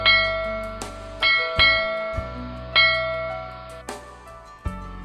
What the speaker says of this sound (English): the sound of the ship's bells